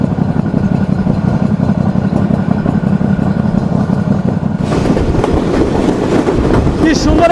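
Kapotaksha Express, a broad-gauge train, running toward Rupdia railway station, giving a loud continuous rumble of rolling coaches that turns brighter and harsher with rattling partway through.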